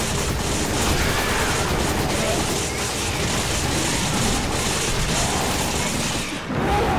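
Gunfire in the video game Resident Evil 5: a dense, continuous barrage of shots and mechanical clatter, loud and sustained, briefly dropping out near the end.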